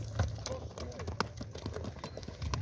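A horse for sale clip-clops as it is led around outdoors, its hoof strikes coming in a steady, moderately close rhythm under background noise, with some voices nearby.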